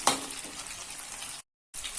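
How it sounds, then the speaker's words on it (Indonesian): Pisang molen banana pastries deep frying in hot oil until brown, a close, steady bubbling sizzle broken by a short silent gap before it resumes. "Ini kita goreng sampai berwarna coklat."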